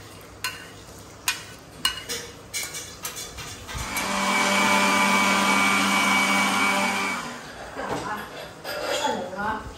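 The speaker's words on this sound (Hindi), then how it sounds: "यहाँ पे मैं मिक्सर में डाल देने का है" A mixer grinder blends boiled mango with sugar water in a home kitchen, rising into a loud, steady whirring roar for about four seconds, with clattering and handling noises before and after.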